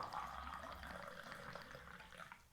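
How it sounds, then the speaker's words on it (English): Water pouring steadily into a glass to brew tea, a continuous close splashing fill that runs the whole time without pause. "On the one hand, we will pour the tea directly in the glass."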